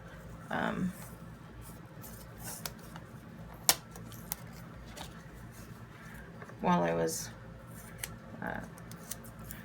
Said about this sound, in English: So now I'm just going to take these little scissors and cut off the extra.